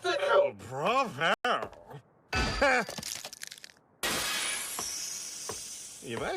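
Glass-like shattering and cracking in an animated fantasy adventure series: a loud, sustained burst of breaking debris follows spoken dialogue and runs to the end.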